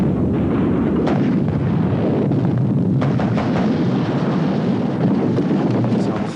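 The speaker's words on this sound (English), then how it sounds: "the firing is getting heavier from all directions." Heavy gunfire in a battle near a hilltop fort in Oman, dense rumbling bursts and sharper cracks rolling on without a break, loud and somewhat distant under constant wind buffeting on the microphone.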